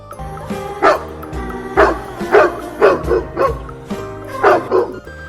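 A dog barks repeatedly, around eight loud, yelping barks in an uneven rhythm, close by and with no talk over them.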